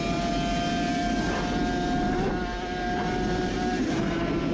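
A Suzuki RG500 two-stroke racing motorcycle roars steadily on throttle during an onboard lap, a loud, continuous high-revving drone that holds nearly constant pitch with a slight dip partway through.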